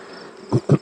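Bees in a nuc hive give a low buzzing, rising in three short, close pulses against a faint steady background hum.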